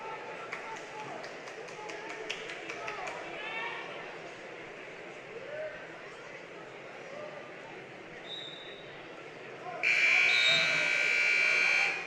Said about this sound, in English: Buzzer sounds over there on mat 2.